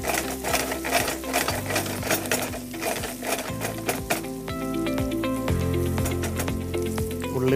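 Fried chicken tossed into a pan of wilted onions, crackling in loud, dense sizzling with rapid metallic clatter and scraping from stirring throughout.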